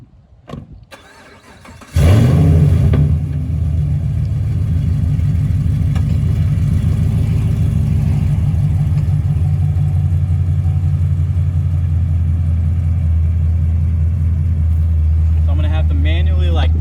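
A 2014 Chevrolet Camaro SS with a broken steering knuckle cranks and fires up loudly after a couple of quiet seconds, then settles into a deep, steady V8 rumble as it slowly backs up.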